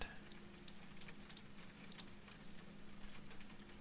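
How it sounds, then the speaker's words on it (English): A rain sound recording playing in a quiet room, a soft, even patter of falling rain with faint crackly drops, low in level and steady throughout. "let me pause my rain sound, because that's surprisingly loud"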